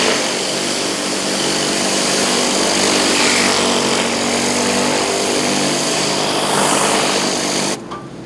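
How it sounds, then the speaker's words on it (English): A hot water pressure washer with a surface cleaner runs alongside a generator, producing a loud, steady, dense roar with no letup that drops away abruptly just before the end. "All you hear is the generator running just a little bit."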